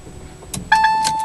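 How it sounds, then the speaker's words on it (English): Ignition key turned in a Citroen C-Zero electric car, a short click and rattle followed by a clear two-tone electronic chime that rings on inside the quiet cabin. "turn the key"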